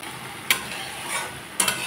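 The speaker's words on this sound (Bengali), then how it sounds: "ভালোভাবে কষিয়ে নিলাম। মশলার গায়ে থেকে তেলও ছেড়ে দিয়েছে।" Spiced masala frying in oil in a pan for a Bengali katla fish curry with boi and kochu, with two sharp stirring scrapes over a soft, steady sizzle.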